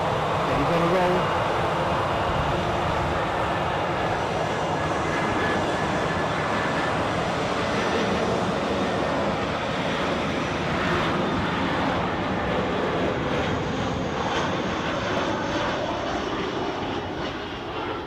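An airliner taxis at Edinburgh airport, a steady, loud jet-engine roar and whine holding level throughout, with no pauses.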